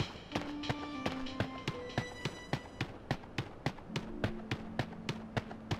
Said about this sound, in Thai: ใกล้ได้ยินเสียงปืนเมื่อกี้